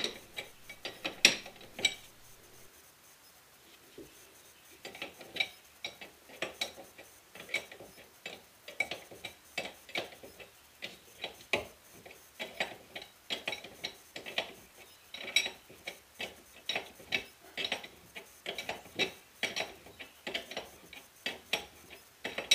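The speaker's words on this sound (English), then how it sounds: "So I just wrench them down as tight as I can possibly get them." A hand wrench tightens the wheel bearing nuts on a Corvette C6, giving repeated metallic ratcheting clicks and clanks in irregular bursts, close and moderately loud, with short pauses between strokes.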